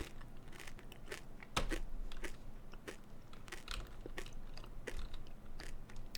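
Close, crunchy chewing with repeated bites and crackles, steady throughout over faint background noise.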